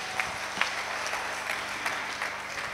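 Congregation applause for Jesus at a church prayer and fasting service, a steady wash of many hands clapping from a distance with a few sharper claps standing out.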